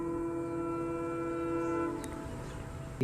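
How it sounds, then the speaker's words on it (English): A fast train approaches on the track with its horn blaring in a long, loud sustained blast over the rumble of the rail cars. "the train, fast approaching, starts blaring its horn to warn them to get the heck out of the way"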